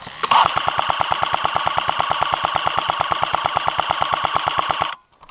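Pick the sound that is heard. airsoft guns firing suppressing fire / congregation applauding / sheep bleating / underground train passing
airsoft guns firing suppressing fire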